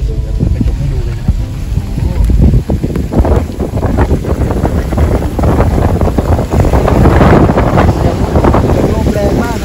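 Strong storm wind on a mountaintop buffets the microphone in loud, rumbling gusts, a heavy low roar that surges and rolls continuously.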